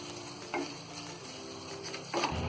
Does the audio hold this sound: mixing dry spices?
yes